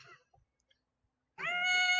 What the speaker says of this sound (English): Squeaky cat.